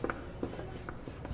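A mobile phone gives a few short electronic ringing tones spaced irregularly, fairly quiet, over a faint background hum.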